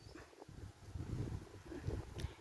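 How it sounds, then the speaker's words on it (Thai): Wind blows outdoors near a schoolyard in rural Thailand, gusting and buffeting a nearby microphone in low, uneven rumbles that swell and fade over a few seconds. "ลมพัดวีวีค่ะ"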